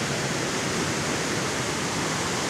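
Flowing creek water, a steady broadband rush that stays even and continuous with no voices, sounding fairly close.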